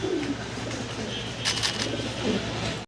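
Pigeons, including Blue Bar pigeons, coo in low, soft repeated calls nearby, with a brief rustle midway and steady background noise throughout.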